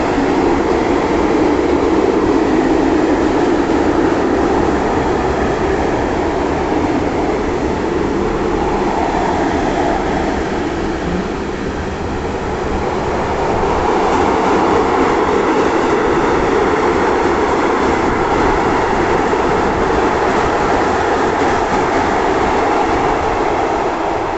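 A freight train hauled by an electric locomotive with tank wagons rolls past close by at Tarnów station, a loud continuous rumble with clanking wheels and wagons, steady throughout.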